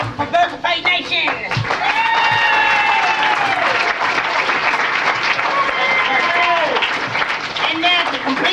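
A crowd at a Texas tall-tale competition breaks into loud, sustained applause with cheering voices and whistles on top, building quickly and holding steady for several seconds.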